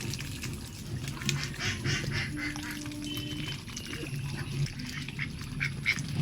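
Ducks quack in a noisy, overlapping chorus throughout feeding time, fairly close and steady, with a few louder calls standing out.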